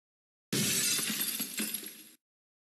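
A single glass shattering effect in a Roblox washer destruction game, a loud, close crash of breaking glass lasting under two seconds, heard alone against silence.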